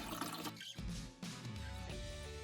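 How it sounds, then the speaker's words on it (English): Water splashes and trickles into the tank of a HiBREW H10B stainless steel espresso machine, a close, uneven pour with brief pauses and gurgling fill sounds. "I'm just gonna fill this with"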